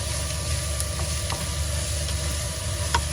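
Finely chopped, crushed onions and garlic fry in a hot pan for a provençale squid dish, giving a steady, close sizzle with a few faint clinks.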